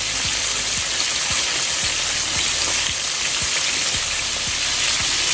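Bluegill and catfish pieces deep-frying in a pan of hot oil, a dense, loud, continuous sizzle with faint low pops and bubbling beneath it.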